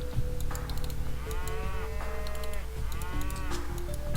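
Cattle in Age of Empires II HD moo in two drawn-out calls over a constant backdrop of game ambience and clicking.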